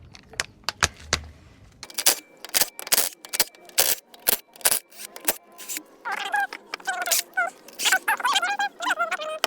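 An impact wrench zips out bolts on a Toyota Land Cruiser 80 Series steering knuckle, firing a string of sharp, close bursts of rattling hammering with short pauses between them, followed by squeaky metallic whining as the work goes on.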